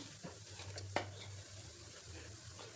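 A coarse paan (tambul) mixture is stirred in a pan, giving soft, quiet scraping and shuffling with one sharp clink near the one-second mark and no talking.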